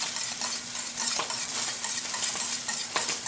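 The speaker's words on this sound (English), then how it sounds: "take the whisk and mix up the eggs" Eggs whisked in a bowl with a wire whisk for a breakfast burrito, a steady brisk scraping rhythm of close repeated strokes with no talking.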